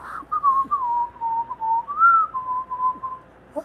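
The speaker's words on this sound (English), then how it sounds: "And you just walk by whistling." A single person whistles a wavering, sustained melody, clear and close, with no talking.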